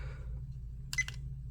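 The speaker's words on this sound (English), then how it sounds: "it'll continue to beep, notifying you that it's not recording" A steady low electrical hum, then a couple of short, sharp electronic beeps close by from a Viofo dashcam warning it is not recording, with no talking.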